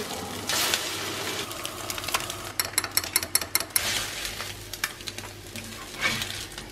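Bacon and eggs frying in a pan, a steady close sizzle with a burst of clinking utensil scrapes and stirring in the middle.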